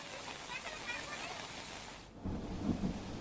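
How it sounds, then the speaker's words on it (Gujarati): Steady heavy monsoon rainfall hissing across the whole clip in Pavi Jetpur, Chhota Udepur, Gujarat, with a brief dip and then a louder rumbling burst near the end. "છોટાઉદેપુરના પાવી જેતપુરમાં ધોધમાર વરસાદ"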